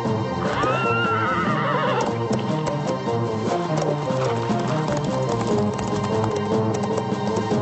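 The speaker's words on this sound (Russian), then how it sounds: "Дикая лошадь. Да!" Wild horse in a cartoon gives a loud, rising and falling whinny over busy galloping hoofbeats, with music running throughout.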